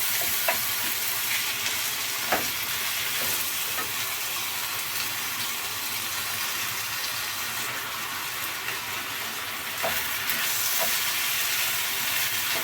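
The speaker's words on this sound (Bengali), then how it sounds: "ভাজাটা আর একটু ভেজে নিচ্ছি" Ginger-garlic paste fries and sizzles in a pan for egg and masoor lentil khichuri, a steady broadband crackle lasting throughout with a few faint clinks, close and fairly loud, no talking.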